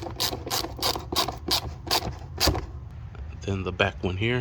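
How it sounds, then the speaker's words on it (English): 8mm socket on a ratchet snugging hose clamps on a 2015 Dodge Durango Limited V6 engine: a steady run of close, crisp ratchet clicks under a brief spoken remark, then a few quicker turns. "Using an 8mm socket, we're going to secure down the hose clamps here."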